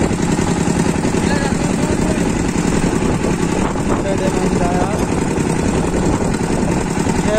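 Drilling machine engine runs steadily while a chisel drilling rig bores a 100 mm observation well into subclay ground, a constant loud rumbling drone with a person talking over it.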